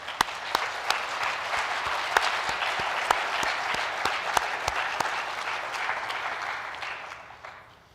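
Applause for teachers at a high school awards night, a steady wash of clapping from a seated audience with a few sharper individual claps standing out, fading slightly toward the end.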